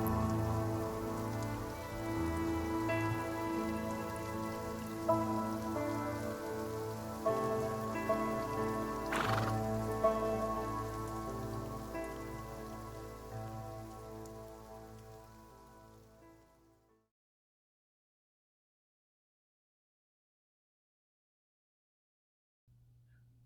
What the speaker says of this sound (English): A light rain falls on the snow-topped mountains